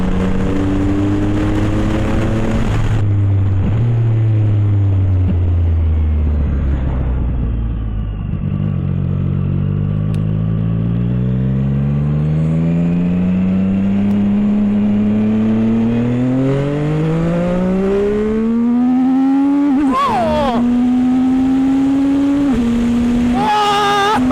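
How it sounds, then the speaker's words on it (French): A 675SR-R sports car engine pulls hard through the gears, loud and close, its deep rising drone climbing in pitch, dropping sharply at a shift, then climbing again before another shift near the end. "le moteur comment il arrive de nulle part"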